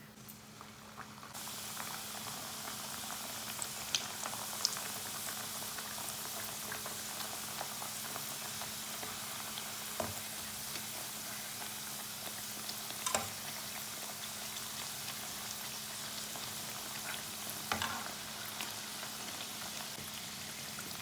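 Tikki frying in a pan of oil, a steady, fairly faint bubbling sizzle that runs unbroken with a few small pops and no talking.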